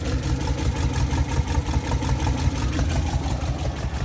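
A 1957 Porsche 356A idles at close range, fitted with new Weber carburetors and its original fuel pump, giving a steady, even rumble with a faint pulsing rhythm and no voices over it.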